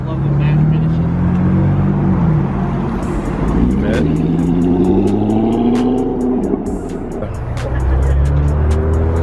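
Car engines rumble and rev nearby as vehicles roll into a large Florida car show, with people talking over the steady motor noise.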